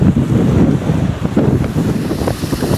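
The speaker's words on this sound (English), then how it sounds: "The old waves crashing onto the beach." At high tide on the beach at Sheerness, waves crash and roll in a continuous low roar, with strong wind buffeting the microphone throughout and no voices.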